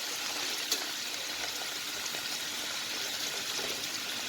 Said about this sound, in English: You know, I'll let it fry. Let the potato be cooked for a while.